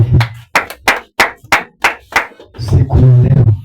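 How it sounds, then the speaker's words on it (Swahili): Congregation at a Wednesday church service bursts into clapping: a run of about seven sharp, distinct claps spaced roughly half a second apart, then denser overlapping applause with voices rising underneath. "Ni makofi."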